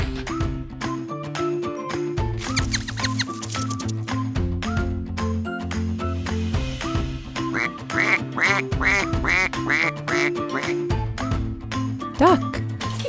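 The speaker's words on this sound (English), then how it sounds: "Duck." A toy duck gives a quick run of repeated quacks amid jingly, clicking toy noises, fairly close and moderately loud, with a voice speaking around it.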